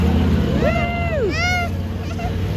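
A person at a monster truck show at Petaluma Speedway vocally imitates a monster truck driving, with rising and falling revving tones over a steady low rumble of background engine and crowd noise.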